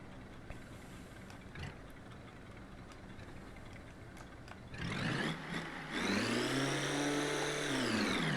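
A roadster on a drag strip in the BeamNG video game, a faint idle that builds to a loud engine rev climbing and holding high, close and steady, with no talk over it.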